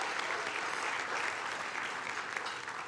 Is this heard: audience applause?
yes